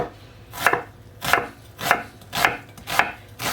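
An onion being chopped with a knife on a board, five sharp, evenly spaced cuts about half a second apart, close and clear with no talking.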